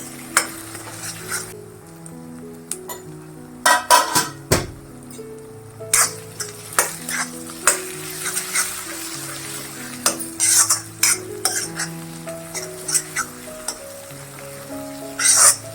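Green chillies sauté in hot oil over a medium gas flame for a chilli thecha, giving a steady close sizzle broken by repeated sharp scrapes and clinks of a spoon against the pan.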